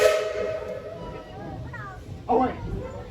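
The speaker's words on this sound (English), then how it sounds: "Casey Jones, let's get this train on back to town" A Tweetsie Railroad steam train whistle sounds loudly at the start and fades, with a hiss of steam and a brief second blast near the end, heard outdoors with voices in the background.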